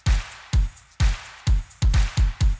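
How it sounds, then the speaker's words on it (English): Shakers panning from left to right and a ride cymbal hiss and shimmer over a heavy, evenly spaced thumping beat, about two hits per second. "So we have the shakers here, panning from left to right, and a ride."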